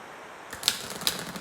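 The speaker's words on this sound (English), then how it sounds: "They shuffle really nicely." A quick riffle of an oracle card deck with matte, not very slick cards, brief papery flutters with two sharp snaps, close and fairly quiet after a moment of near silence.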